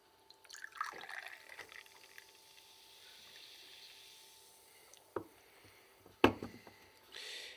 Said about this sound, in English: Pour this into the little glass.